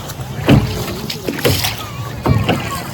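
A small boat moves across the water of Madan Lake, with three distinct splashes and sloshes spaced about a second apart over a bed of water noise, and voices talking nearby.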